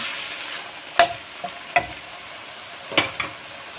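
Seasonings being stirred into carrot, potato and onion frying in a pan for a healthy Taiwanese-style soup, a steady sizzle with four or five sharp scraping strokes of the utensil, close and loud, with no talking.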